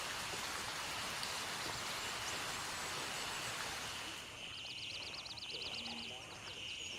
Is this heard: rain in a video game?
yes